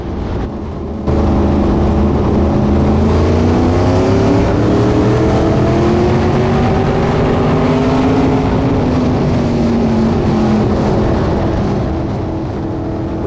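In-car sound of a USAC Silver Crown race car at Indianapolis Raceway Park under green flag, its engine droning loud and steady with gliding pitch as it rolls around the track, no talk over it.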